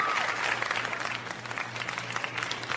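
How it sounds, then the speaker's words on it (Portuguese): Studio audience at a Brazilian TV variety show breaks into sustained applause, a dense wash of clapping from a large crowd that holds steady throughout, with a faint low hum underneath. "Muito obrigado pelos aplausos, por essa recepção"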